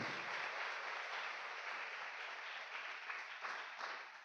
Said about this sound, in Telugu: కొట్టాలి గట్టిగా చప్పట్లు